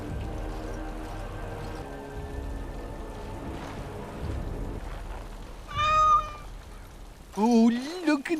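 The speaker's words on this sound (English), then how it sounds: "Oh, look at the cute little kitty." A cat meows twice in the video game Dragon Age: Awakening, two short close cries near the end over a quiet ambient game background with faint rain.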